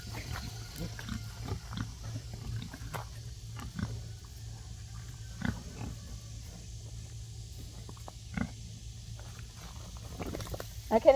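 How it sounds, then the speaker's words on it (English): Pigs on a small farm grunt faintly and sporadically in the distance, with scattered soft rustling and short snorts over a quiet low hum. "The pigs, I hear them."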